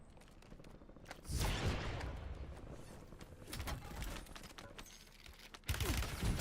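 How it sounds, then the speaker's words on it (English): Gunfire in a Warzone or Battlefield video game comes as scattered bursts and single shots at moderate loudness, with a heavier volley near the start and another near the end, over steady background game noise. "I'm under fire."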